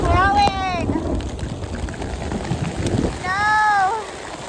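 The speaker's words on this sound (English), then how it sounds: "It's hailing!" Hail falls on a flower farm, making a steady, dense pattering hiss throughout, while excited voices cry out over it.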